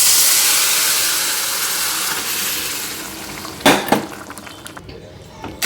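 Boiled amaranth leaves are tipped into a hot tempering seasoned with asafoetida for a tamarind-free amaranth pulusu. A steady loud sizzle bursts sharper as the leaves hit the oil, then spoon clinks and stirring follow.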